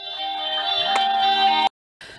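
A steady electronic phone ring with bright sustained tones, fairly loud and close, cutting off abruptly before a brief pause and another burst.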